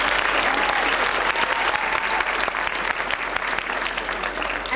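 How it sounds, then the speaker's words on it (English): A school auditorium audience at a 1988 high school talent showcase gives a warm, sustained round of applause, dense steady clapping filling the whole stretch with a faint murmur of voices underneath. "let's give a warm round of applause for Mike."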